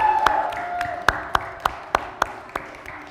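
A handful of scattered handclaps from an audience at a student election event for Vice President of Community and Welfare candidates, about eight separate sharp claps in a loose, steady rhythm over a quiet hum.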